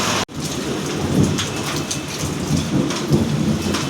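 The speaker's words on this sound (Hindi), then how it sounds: "आप सिर्फ बादल आवाज़ सुनो" Steady, heavy rain falls with low rumbling thunder from overhead clouds, loud and continuous throughout, after a brief dropout at the start, with no talk.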